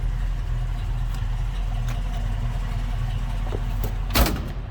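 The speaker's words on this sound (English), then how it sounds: "A little rumble coming out of that 390." A 1969 Ford Mustang Fastback with a 390 V8 idles in a low, steady rumble heard from fairly close. Near the end a brief knock or thump cuts in.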